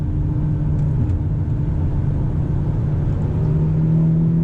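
A Hyundai Elantra N with a six-speed manual pulls hard under acceleration, its engine a loud, steady low drone heard from inside the cabin, with the pitch climbing slightly near the end.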